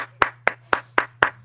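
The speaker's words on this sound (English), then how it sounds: "You get a round of applause too," A single person gives five sharp, evenly spaced hand claps, close and loud, over a steady low hum during a wrestling chat show.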